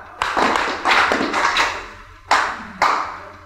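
An audience at an indoor meeting claps in unison in short rhythmic bursts, several sharp group claps in quick succession followed by two more spaced claps, close and fairly loud with no talking over them.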